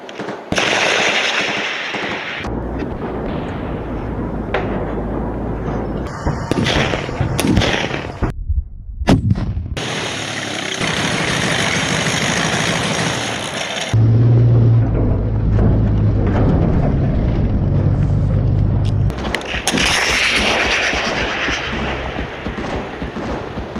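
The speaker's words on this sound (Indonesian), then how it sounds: "salah satu bom tampaknya mengenai dua kendaraan sekaligus" Heavy bomb blasts strike Russian tanks on a battlefield, a series of loud booming explosions and crackling detonations, some sharp and close, others rolling and sustained, with no talking.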